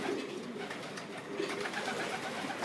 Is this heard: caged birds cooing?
yes